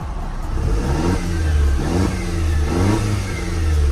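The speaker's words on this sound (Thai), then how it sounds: "ผมจะพาไปชมนะเสียงท่อกันนะครับว่าเสียงท่อคันนี้ลั่นแค่ไหนน" A 2013 Mercedes-Benz SLK 200 AMG (R172) sports car engine revs hard several times in a row, the exhaust rising and falling in loud, throaty bursts close by.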